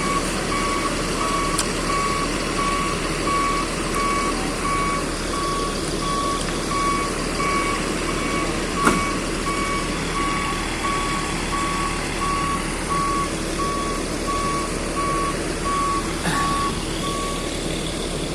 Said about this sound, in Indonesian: Dia mau nutupin mesin malah